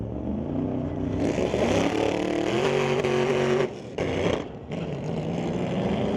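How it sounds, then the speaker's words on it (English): Drag racing launch between a 2013 Camaro LS with an LS 416 and a 1962 Falcon with a 429 big block, a loud sustained engine roar with rising revs, heard from the track side, with a brief dip partway through. "Just a lot of spin in the tire there for Dennis off the line"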